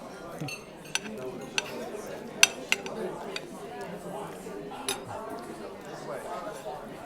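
A metal utensil scrapes and clinks against a frozen-solid birthday cake, giving scattered sharp ticks and clinks at close range under a quiet voice.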